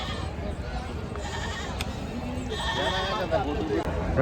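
Goats, including Katewadi goats, bleat amid a busy outdoor crowd at a large goat, sheep and poultry market in Maharashtra, their calls rising over a constant murmur of many voices.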